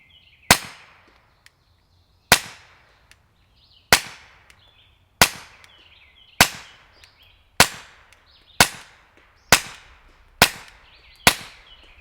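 Nine sharp pistol shots from a TX22 .22 handgun with an SD Tactical Arms M22 suppressor, firing CCI standard-velocity ammunition. Cracks come about every one to one and a half seconds, each with a brief ringing decay, and there is no talking.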